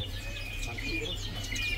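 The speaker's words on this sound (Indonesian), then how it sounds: "di sini ada yang namanya burung murai irian." A murai irian bird sings in a busy bird market, its thin high chirps and whistles faint and scattered over steady low market hum.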